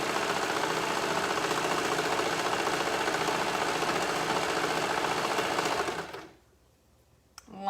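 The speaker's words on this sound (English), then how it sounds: "All right, so again, sewing down the sleeve." Sewing machine stitching down a t-shirt sleeve, a steady continuous mechanical whir running loud and unbroken for about six seconds before stopping abruptly, leaving near silence and a brief tap at the end.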